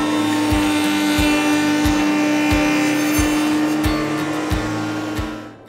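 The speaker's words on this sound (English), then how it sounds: "And we're ready to go to the router table." A woodworking router table cuts small wood pieces held in an Iron Grip small parts holder, giving a steady high whine with a regular series of passes that thud about every half second, loud and close, fading out at the end.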